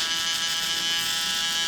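An electric hair shaver buzzes steadily and close during a haircut, a continuous bright electric hum with no pauses or voices.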